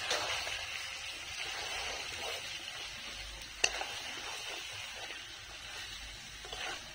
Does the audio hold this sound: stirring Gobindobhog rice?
yes